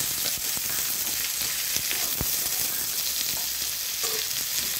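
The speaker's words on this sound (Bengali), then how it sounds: "আমি এর মধ্যে আদা রসুন লঙ্কা টমেটো সব দিয়ে দেবো, দিয়ে এটাকে ভাজি।" Potato and eggplant fry with ginger, garlic, chili and tomato in a pan, a dense steady sizzle with occasional scraping stirs and clinks, close and continuous.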